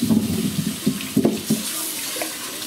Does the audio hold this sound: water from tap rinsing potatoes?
yes